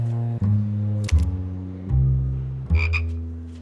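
A cartoon frog, the bewitched Monsieur Wilkie, croaks in a series of loud, deep, buzzing croaks in close succession, each one a few tenths of a second long, with brief gaps between them.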